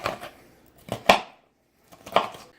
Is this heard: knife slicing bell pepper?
yes